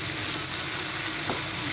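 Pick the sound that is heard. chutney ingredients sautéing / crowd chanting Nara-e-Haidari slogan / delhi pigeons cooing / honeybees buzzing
chutney ingredients sautéing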